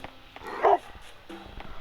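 A dog barks once in the video game Robbery Bob 2, a short, clear bow-wow at moderate volume followed by quieter game sounds.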